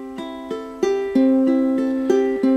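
Plucked ukulele notes on open strings, picked one at a time in an even arpeggio that quickens slightly, each note ringing clearly and close with no talking over it.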